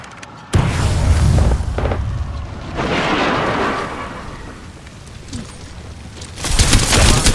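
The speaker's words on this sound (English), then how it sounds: "Throwing thermite." A thermite grenade goes off in a video game: a loud, deep burst opens, then a sustained roaring, crackling rumble follows, swelling again into a fresh harsh blast near the end.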